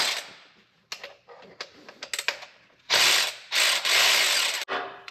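A ratchet wrench clicks in quick irregular runs while a new brake caliper is taken apart, the ratcheting close and loud, building to longer sustained bursts near the end, with no talk.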